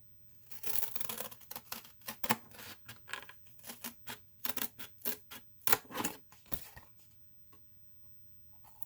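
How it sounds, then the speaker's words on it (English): Scissors cut through cardboard for a homemade tarot box in a rapid series of crisp, rough snips and crunches close up, each cut separated by short pauses, then the cutting stops near the end. "I'm going to just cut with scissors."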